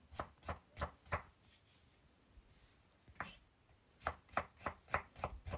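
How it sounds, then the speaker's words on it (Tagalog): Onion is sliced lengthwise with a knife on a cutting board in quick close taps, a run of five, a pause, then another rapid burst of six, quiet and clean. "maghiwa tayo ng sibuyas para panggisa ng ating sauce. So, hiwain lang ng pahaba"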